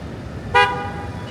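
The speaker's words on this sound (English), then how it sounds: "The blue car hoots at it." A single car horn toots once, a short, clear honk at a driverless car that has stalled on a university campus street in downtown Phoenix, standing out briefly over steady traffic and street ambience.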